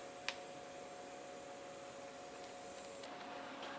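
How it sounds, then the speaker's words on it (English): A flexographic printing press, just switched on, runs with a quiet, steady mechanical hum and faint whine, a single small click near the start and no voices. "because we just turned the press on"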